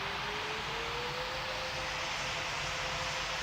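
A steady, loud engine roar of an airplane taking off in the video game PTFS (Pilot Training Flight Simulator), an even rushing drone with a faint rising tone and no voices.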